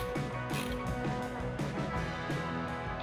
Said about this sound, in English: Now we just start ratcheting this down.